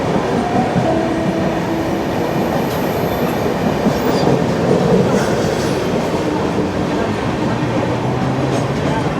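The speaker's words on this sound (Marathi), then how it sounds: "कल्याण CSMT फास्ट लोकलचा पहिला official halt Dombivli railway station." A Mumbai Kalyan–CSMT fast local train at crowded Dombivli station produces a loud, continuous rail rumble with rattling carriages and faint wheel squeal. Crowd murmur and voices sit beneath it throughout.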